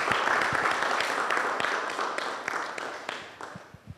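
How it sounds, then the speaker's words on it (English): A crowd at a Father's Day celebration hangout gives a round of applause for a radio drive-time host, a continuous wash of many hands clapping that gradually thins and fades toward the end. "Let's give him a round of applause."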